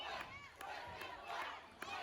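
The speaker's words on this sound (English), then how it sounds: "We see the crowd's into this." At a live wrestling event, an indoor crowd roars and shouts continuously and at moderate volume, with loud bursts of yelling rising through the steady din.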